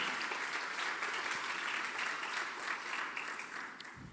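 Church congregation clapping together in sustained, dense applause that holds steady for several seconds before starting to thin near the end.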